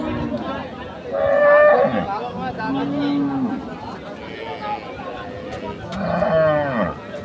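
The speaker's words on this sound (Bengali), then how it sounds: "দুধের গরু, এটা কিন্তু একটা ফ্রিজিয়ান গাভী" A Friesian dairy cow moos at the Ambari cattle market in Cumilla, giving several loud, drawn-out calls close by, with faint market chatter behind.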